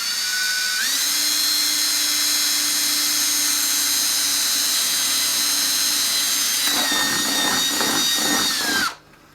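A power drill whines at high speed, steady and loud, then bites through plastic with a grinding, stuttering strain before winding down to silence.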